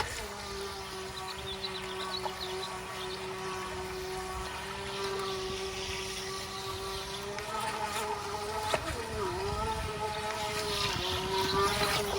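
The motor of a Haiboxing Surge X03 RC boat hums steadily on the water with a constant tonal whine that dips and rises briefly as the throttle changes, against light wind noise.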